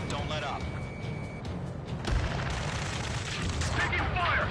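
Gunfire in the Ace Combat 7 video game, rapid bursts of shots blending into a dense crackling barrage with a heavy boom partway through, under urgent shouted voices.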